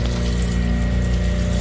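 Water sprays from a hose to rinse sand and salt off an Advance SC901 floor cleaning machine, a steady close rushing gush with a pump-like hum beneath it and no pauses.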